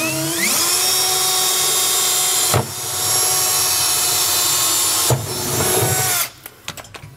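A power drill boring pilot holes through the steel bed of a 2022 Ford pickup for a B and W Turnoverball gooseneck hitch: a loud, steady whine runs unbroken with two brief bursts along the way, then stops into scattered clicks and knocks.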